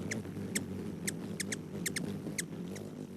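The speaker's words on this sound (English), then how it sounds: "That's the sound of the ruby-throated hummingbird." Rapid high-pitched squeaky chips and twitters of a male ruby-throated hummingbird in quick irregular bursts, faint over a low background rumble.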